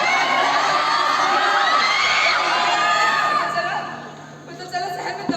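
Staged city riot in a theater competition performance: a loud crowd shouts, screams and yells together in a dense roar that fades toward the end, followed by a few scattered shouts.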